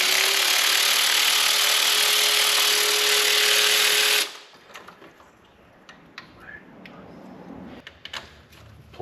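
A cordless power tool drives out plugs on an engine during a health check, whirring loudly and steadily for about four seconds before stopping abruptly, followed by scattered light clicks and taps of handling.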